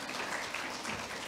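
An audience at an award ceremony gives a dense burst of clapping, close and steady, heard on its own without talk.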